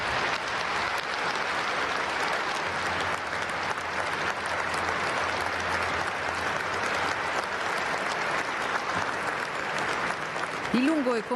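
A stadium crowd of about 20,000 at the Friuli gives long, steady applause in a moving tribute to the Vajont disaster victims, a dense, unbroken wash of clapping that holds throughout, with a brief voice near the end.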